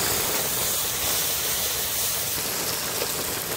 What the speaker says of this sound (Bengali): বেটে রাখা সব মশলা এবার দিয়ে দেবো কড়াইতে